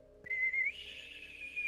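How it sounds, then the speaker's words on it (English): A bosun's whistle in a video game gives one shrill, sustained high-pitched note that starts abruptly, rises slightly partway through, and holds clearly and alone. "That should be the bosun's whistle."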